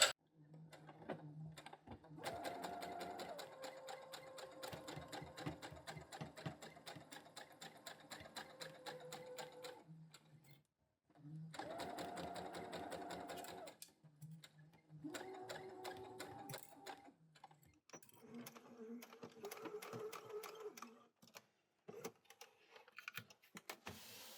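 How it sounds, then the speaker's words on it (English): A sewing machine stitches a button band into a neckband in rapid, close mechanical bursts, with a short pause in the middle and a few stop-start runs toward the end, and no talking. "You need to go across the end of the button band and then join into the neckband, sewing all of that at 1 centimetre."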